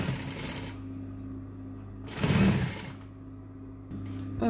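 A sewing machine stitches lace onto the hem of a shalwar leg with a steady, close mechanical whirring, briefly louder and rougher midway, then settles back into an even run.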